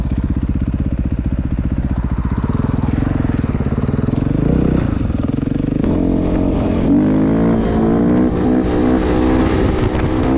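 A 2014 KTM EXC 450 dirt bike engine idles with a fast rhythmic thump, then revs up in rising blips and higher-pitched bursts, close and loud, no speech.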